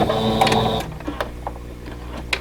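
A sewing machine stitches a seam on a quilt block, its steady mechanical whir running loud for under a second, then stopping, leaving faint handling clicks and rustles.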